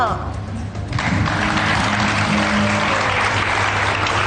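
A studio audience on a morning talk show breaks into applause for a musician, clapping swelling after a moment into a dense, loud, sustained wash over a low steady hum.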